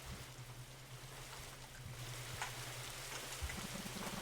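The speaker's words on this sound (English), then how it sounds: "It's really pouring out there." Rain pouring outside, a dense continuous hiss of drops with a low steady hum underneath and a few faint knocks, moderately quiet and unbroken with no voices.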